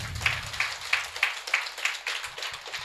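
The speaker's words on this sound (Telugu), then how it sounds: "ఈవిడికి గట్టిగా చప్పట్లు కొడదాం." An audience at a devotional event in Naimisharanyam, Uttar Pradesh, claps for a woman being honoured. The claps come in a steady, regular rhythm of distinct beats, moderately loud and close.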